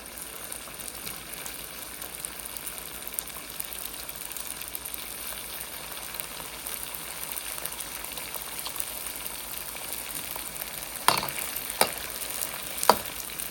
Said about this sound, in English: You're gonna fry these until golden brown